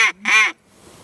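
A duck call blown to imitate a duck's calling rather than single quacks: two loud, nasal quacking blasts, a short one then a longer drawn-out one, close up and alone, followed by quiet room tone.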